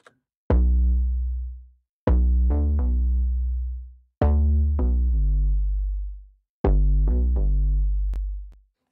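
Layered synth bass presets in an afrobeat beat, one with saturation, play four deep, sustained notes with sharp attacks. Each swells and fades before the next, loud and clear with no voices.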